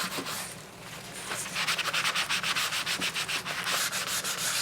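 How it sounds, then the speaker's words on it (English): Paper towel rubbed in circles over a waxed surface to lift the wax off, likely on a traveler's notebook project; a steady series of close, dry scrubbing strokes repeats in a quick rhythm with no talking. "take a paper towel and just kind of start going in a circular motion and getting some of the wax off"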